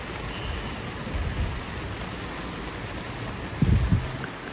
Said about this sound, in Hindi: हाँ बारिश हो रही है, दिख भी नहीं रहा है कुछ भी, लेकिन हो रही है बारिश।